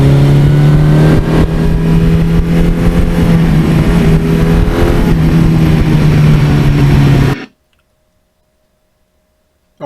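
A 1982 Suzuki GS1100E superbike engine roars loudly while being ridden, a steady, powerful mid-pitched drone with slight rises in revs, cutting off abruptly to near silence.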